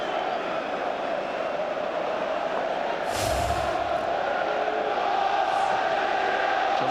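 Stadium crowd at a 2002 Newcastle United versus Middlesbrough football match, a steady roar of massed voices that swells with a brief sharper burst of shouting midway, with commentary-style talk underneath.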